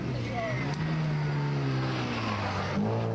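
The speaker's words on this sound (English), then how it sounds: "There we saw Willie Dunworth getting his Datsun 100A very sideways, but getting away with it." A Datsun 100A rally car on a stage at the 1982 Kerry Single Stages Rally, its engine droning loudly and steadily at high revs, close and continuous throughout.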